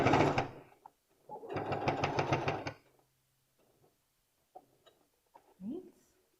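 A sewing machine backstitching a T-shirt hem gives two short bursts of rapid stitching, close and moderately loud, followed by quieter handling sounds and a brief voice.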